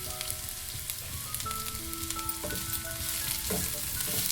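Sliced onions frying in a pan, a steady close sizzle with occasional stirring scrapes, while quiet tonal background music plays underneath and no one speaks.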